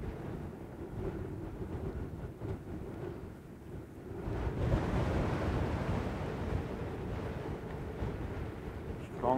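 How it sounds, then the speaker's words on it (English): A strong gust of wind buffets an outdoor microphone at a radio-controlled glider championship flyoff, a low roaring rumble that swells midway and stays heavy, with distant voices underneath. "Strong gust of wind."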